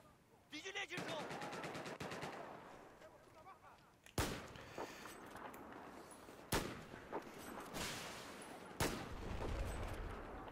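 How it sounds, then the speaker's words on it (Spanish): Gunfire rings out in the video game Battlefield 4, with bursts of automatic fire and several sharp, loud shots cracking over a continuous background of in-game noise. "Escucho disparos por aquí"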